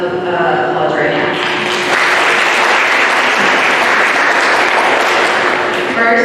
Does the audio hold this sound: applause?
yes